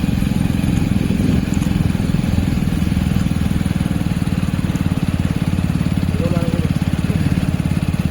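A motorcycle moves slowly along a road to a temple, its engine holding a steady, loud, low chugging drone from start to finish with no break.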